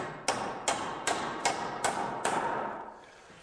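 Hammer tacking a wooden stair carriage to a hanger board, six evenly spaced sharp knocks with short ringing decay, close and steady in rhythm, no talking.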